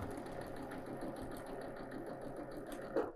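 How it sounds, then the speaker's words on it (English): A sewing machine runs steadily as it stitches the seams of a quilt block, a quiet, even mechanical whir heard close up, ending in a brief clunk. "line up your other seams as best you can and go ahead and stitch."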